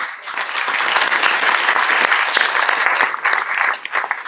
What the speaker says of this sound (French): Alors pour eux, j'aimerais un grand applaudissement